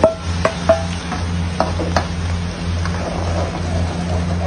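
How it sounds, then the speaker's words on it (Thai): Curry powder sauce poured into a hot pan for seafood curry, steady sizzling with a few sharp clinks and taps of utensils at the start, close and fairly loud. "แล้วเราก็จะเอาน้ำซอสผงกะหรี่ที่เราเตรียมไว้นะครับ ใส่ไปเลย"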